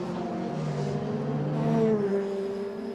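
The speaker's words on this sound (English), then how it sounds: "So the number 7 car of Ralph Aron" Formula 3 race car at speed on the Nürburgring during qualifying, its high-revving engine note rising and then dropping in pitch as it sweeps past, loud and steady, with no voices.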